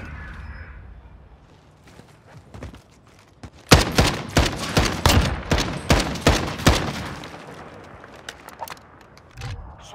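Sniper rifle gunfire in a Modern Warfare search and destroy match, a dense burst of loud, sharp shots clustered in the middle, with scattered quieter shots before and after.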